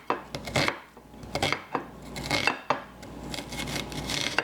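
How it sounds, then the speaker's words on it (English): Knife chopping and dicing vegetables on a board for a bowtie pasta salad, with a series of sharp, irregular close-up cuts and light clatter, no talking. "I'm chopping it down in thirds"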